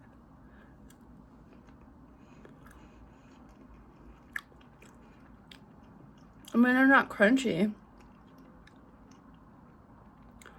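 A person talks, then a single loud bite and crunchy chewing of carrots comes close to the mic for about a second.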